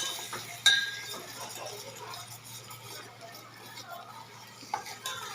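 A dal tadka mixture with garlic and ginger paste is stirred in a pan on a switched-off stove, giving soft scraping with a couple of sharp utensil clinks against the metal and a faint background hum.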